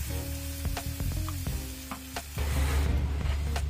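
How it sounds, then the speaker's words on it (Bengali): Water goes into sizzling fried spice paste for a Bengali pabda fish curry, a steady frying crackle with stirring clinks that swells into a louder, fuller hiss near the end. "এখন আমি এর সাথে জল অ্যাড করবো।"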